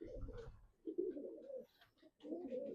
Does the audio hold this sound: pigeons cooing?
yes